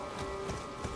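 Horse hooves from Elden Ring clop in a quick steady rhythm of about three beats in one second, set over a constant game hum with no talk.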